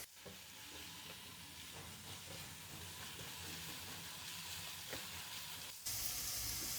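Finely chopped onion frying in a pan for a smoky, creamy restaurant-style dal, giving a steady close sizzle with occasional stirring scrapes and a louder, brighter hiss near the end.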